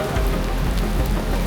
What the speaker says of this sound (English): it's hard to focus with the rain